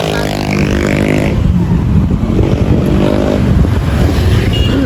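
A motorcycle carries riders along a road near Montalban, Rizal, its engine droning steadily and loudly with wind rush throughout, close to the listener and without talk.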